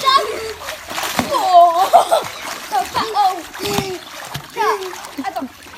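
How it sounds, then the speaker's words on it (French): A child splashes and churns water in a swimming pool to make waves, with repeated close, uneven splashes mixed with excited children's voices and chatter throughout. "là il fait des vagues, des vagues, des vagues"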